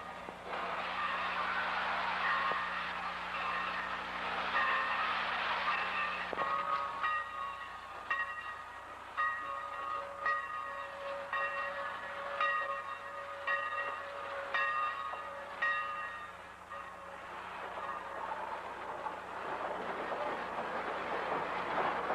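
Santa Fe 3759 steam locomotive stands coupling up before climbing Cajon Pass, with a low rumbling engine and hiss, and a bell ringing steadily in an even rhythm through the middle stretch before fading back to the idling rumble.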